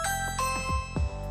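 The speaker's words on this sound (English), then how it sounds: "Here's what an IoT doorbell sounds like." A Ring smart doorbell plays its chime indoors, a clear two-tone electronic ding-dong that rings out and decays over about a second.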